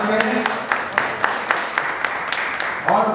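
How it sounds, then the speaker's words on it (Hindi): An audience at a Jain temple gathering claps in a steady rhythm to welcome a guest, the beats regular and moderately loud beneath someone talking. "ऐसे निमित्त भाई साहब पवन जी का जोरदार ताली से स्वागत करें"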